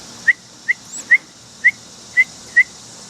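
A person whistles to an abandoned baby bird being hand-fed, six short, clear, evenly spaced high whistle chirps in a quiet room, close and fairly loud.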